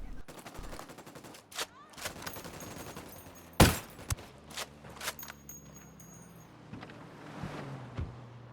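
Gunfire in Ghost Recon Wildlands rings out as scattered sharp shots and short bursts, one especially loud crack midway, close and irregular over a low background.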